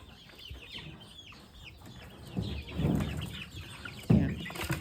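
Soft, scattered clucking from a few chickens close by, with some low thumps and rustling, no talking.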